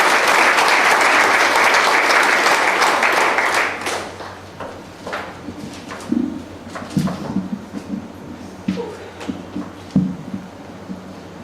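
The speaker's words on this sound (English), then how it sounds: "how about a big round of applause for Tricia?" An audience at a funeral service applauds, dense and loud for about four seconds before thinning into scattered claps with faint cooing birds in the background.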